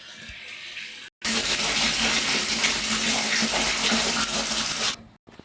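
Water gushes steadily into a farm fish tank with a loud, continuous splashing rush, starting abruptly after a moment of quieter sound and cutting off near the end.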